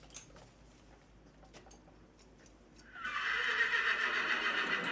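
A horse whinnies loudly while a bridle is put on from its left side, the bright, sustained call bursting in partway through after quieter shuffling.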